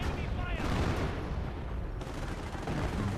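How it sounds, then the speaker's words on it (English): A rocket barrage strikes an anti-tank gun in a strategy video game, with dense, loud rumbling explosions and overlapping gunfire rolling continuously over a few seconds. "Incoming rocket barrage on the anti-tank gun"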